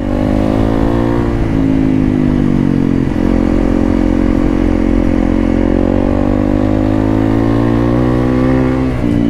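A Honda CRF 300L dirt bike with modifications is heard close and loud as it accelerates continuously, its engine note rising and holding with gear changes near three and nine seconds.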